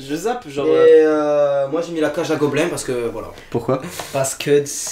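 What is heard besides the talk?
No everyday noise stands out behind the speech.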